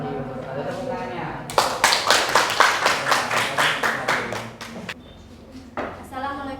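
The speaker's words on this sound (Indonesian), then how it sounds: "Tepuk tangannya." An audience at a teachers' presentation event claps in a burst of sharp, fairly loud claps lasting a few seconds, fading out and then returning briefly with a few more claps near the end.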